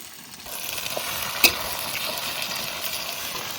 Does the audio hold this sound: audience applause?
no